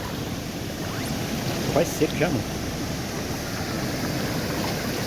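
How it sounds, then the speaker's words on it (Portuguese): A waterfall roars as a steady, even wash of rushing water heard nearby, with someone speaking briefly over it. "Vou mostrar a cachoeira pra vocês ali"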